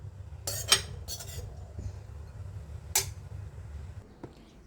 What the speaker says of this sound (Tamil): இதை பாத்திரத்துக்கு மாற்றிக்கலாம்